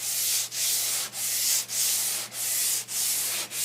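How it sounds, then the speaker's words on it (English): Hand sanding of wood furniture with sandpaper during refinishing, a light pass toward a smooth finish: steady close scratchy strokes in an even rhythm of about six passes, each separated by a brief pause, with no talk. "I'm going to do even a lighter sand"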